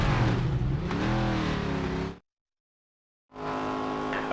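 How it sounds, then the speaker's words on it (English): A NASCAR race car engine in the NASCAR 25 video game on a qualifying lap at Talladega, a loud rising roar with shifting tones that cuts out briefly into silence, then resumes at full drone. "The engines are fired up, and the fight for the pole is on."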